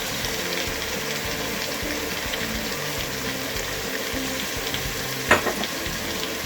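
Turnip, tomato and spinach fry in a pan while being stirred, giving a steady close sizzle with soft scraping and one sharper clatter near the end.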